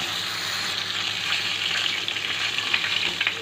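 Prawns sizzle steadily in hot oil in a wok, a continuous close, bright frying hiss with small spatters throughout and no talking.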